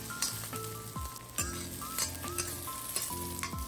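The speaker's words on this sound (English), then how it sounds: "Let's start off with sauteing some onions. I use white" White onions sauteing in a Salad Master pot sizzle steadily, a soft continuous hiss with faint scrapes and knocks of stirring running throughout, no talking.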